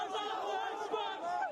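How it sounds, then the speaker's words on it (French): A crowd in Cairo shouts and cheers at Mubarak's resignation: many voices chant and yell together in a dense, rising clamor, close and continuous. "Et la foule explose, crie Dieu est grand, comme si la démission du président Moubarak était un miracle"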